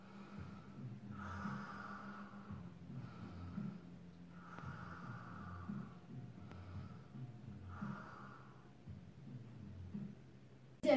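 Slow, deep breaths taken during a relaxation exercise, each long inhale and exhale rising and falling in a steady rhythm of about three cycles, close and soft with faint room noise and no talk.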